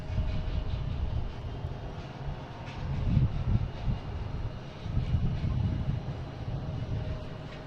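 A British Airways Airbus A380-800 jet at Boston Logan makes a low, rumbling engine drone heard from a distance, swelling and easing in gentle surges.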